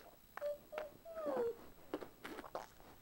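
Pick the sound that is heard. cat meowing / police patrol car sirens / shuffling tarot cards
cat meowing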